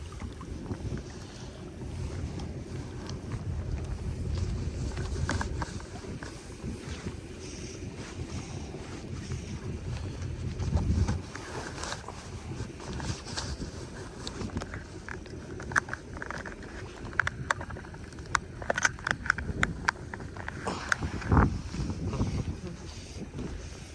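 Strong wind gusts across an open reservoir during early-spring fly fishing, a continuous rough roar with buffeting microphone noise. Small splashes and knocks sit underneath. It stays fairly loud throughout, with faint voices now and then.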